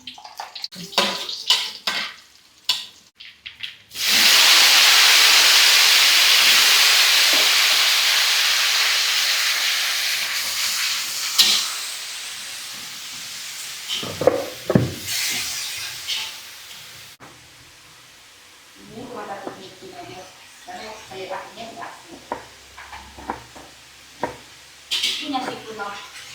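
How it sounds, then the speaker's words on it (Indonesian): Bean sprouts stir-fried in a pan give a loud, sustained sizzle and hiss that starts abruptly and slowly fades, followed by scattered clatter of utensils against the pan and brief voices. "Tumis toge."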